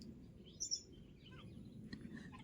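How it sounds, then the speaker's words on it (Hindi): Small birds in a tree chirp in faint, scattered bursts, a couple of sharper calls standing out early, set against a low, steady outdoor background with no talking. "इस पेड़ में इतनी चिड़िया शोर मचावे हैं"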